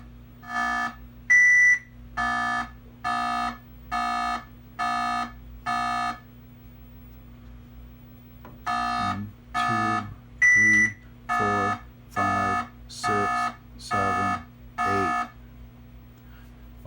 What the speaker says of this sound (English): And the third beep was high